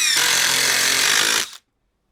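A drill driver and an impact driver drive screws into hard lumber, a loud, continuous buzzing and rattling whir that holds steady for over a second and then stops abruptly into silence.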